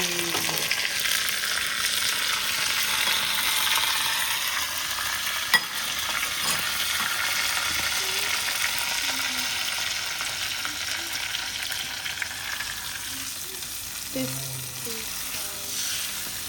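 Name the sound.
tempering sizzling in hot oil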